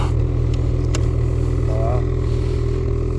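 A 2022 Ski-Doo Renegade X-RS 850 snowmobile engine runs loud and steady at close range in powder snow, with brief clatter and a short voice over the drone.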